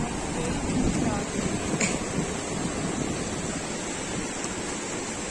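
Water flows steadily past a bridge near a temple and river in Junagarh, a continuous broadband rush at close range with a faint voice under it.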